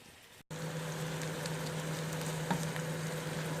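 Leeks and onions frying in a pan, a steady close sizzle that starts abruptly after a brief pause and continues evenly with soft crackles.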